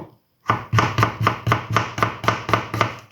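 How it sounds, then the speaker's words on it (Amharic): A knife chops onions finely for Ethiopian shiro, about eleven crisp, evenly spaced strikes on a cutting board, close and loud, with no talking. "እሺ፣ ይሄው እንደዚህ ደቀቅ አድርጌ ከትፈዋለሁ"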